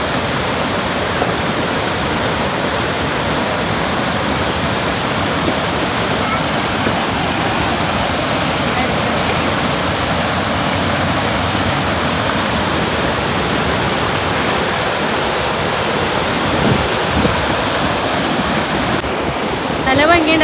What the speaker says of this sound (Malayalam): ആ സൗണ്ട് ചെറിയൊരു കുറവുണ്ട് ഈ വെള്ളച്ചാട്ടത്തിൻ്റെ സൗണ്ട് കാരണമാണ്